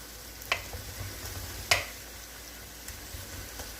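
Mushrooms and red onions frying in a pan: a steady close sizzle with a couple of sharp pops and light scraping, no voices.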